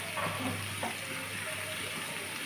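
Soybean curry sautéed in a pan, giving a steady, close sizzle with faint scraping and stirring throughout.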